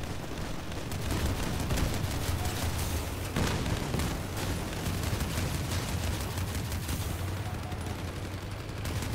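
Sustained gunfire from armored combat vehicles in the video game Crossout, a dense, continuous rattle of shots with booming hits over a steady low rumble, fairly loud throughout.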